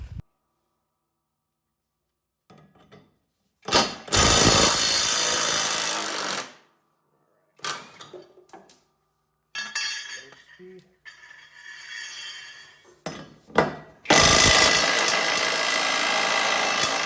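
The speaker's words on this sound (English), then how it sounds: "We're gonna go ahead and take off those blades" Blades being removed from a John Deere riding mower with a power tool, heard as several loud, sustained rattling bursts separated by silence, with clinking metal and brief voices in between.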